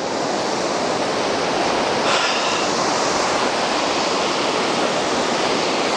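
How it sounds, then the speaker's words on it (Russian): Rough sea waves churn and crash in a dense, unbroken roar of surf, loud and close throughout with no voices. "Море сегодня волнуется."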